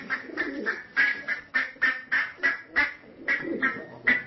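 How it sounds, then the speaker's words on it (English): AI-generated animal sound effect: a duck quacks in a fast run of about a dozen loud, nasal calls, with softer cooing from a pigeon mixed in between. "A duck quacking as birds chirp and a pigeon cooing."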